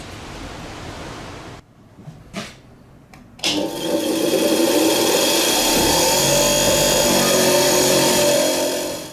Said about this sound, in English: next to wire brush it off, I think, and see what I've got